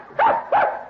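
Two short, whiny puppy yelps in quick succession, a newborn litter of six in a radio drama, fairly close and clear with no talk over them.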